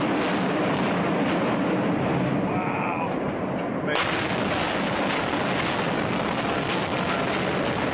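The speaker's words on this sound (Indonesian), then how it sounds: "Ledakan demi ledakan terjadi sehingga sesuatu yang kelihatan kokoh, kelihatan mustahil, itu tiba-tiba hancur." Continuous, dense rumbling blasts and booming explosions roar without a break, loud and sustained, as large buildings are demolished.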